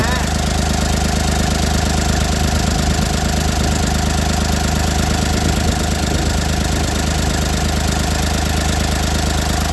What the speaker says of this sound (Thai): เป็นเครื่องยนต์สามสูบนะคะสสามิบเก้าแรงม้า